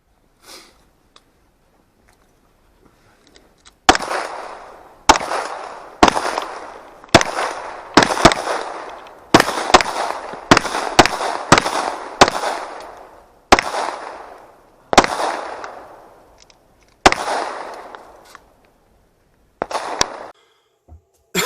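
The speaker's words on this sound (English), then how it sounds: "I took it to the range. Okay, I put about 50 rounds through it." A handgun treated with Frog Lube is fired at a shooting range, about fifteen loud, sharp reports with echoing tails in an irregular sequence, some in fast pairs, with near silence before the first shot.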